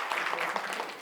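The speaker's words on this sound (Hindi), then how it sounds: "जोरदार तालियां।" Dense, steady applause from an audience at a community gathering, a continuous wash of many hands clapping at once, fairly close and even throughout.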